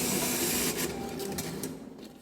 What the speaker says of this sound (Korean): 그럼 이렇게 영수증이 프린트 된다.